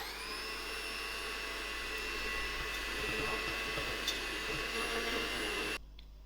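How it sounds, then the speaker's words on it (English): An electric mixer whisks cream cheese with a steady, high-pitched motor whir that holds at an even level and then cuts off near the end. There is no talking. "Using my mixer, I'm going to give my cream cheese a whisk."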